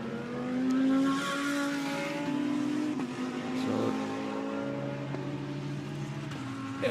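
A Lamborghini GT race car on a Valencia circuit during free practice, heard onboard: a loud sustained engine note rising and falling through gear changes, steady and close with no voices.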